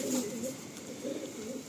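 Soft, low cooing from a white Madrasi pigeon, two brief throaty phrases close by over faint background noise.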